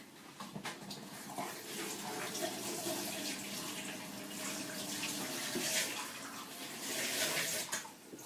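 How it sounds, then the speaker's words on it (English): Kitchen tap water runs steadily into a sink as food is rinsed after seeds are removed, a continuous close splashing hiss with small surges and no talking. "I'm going to wash that quick"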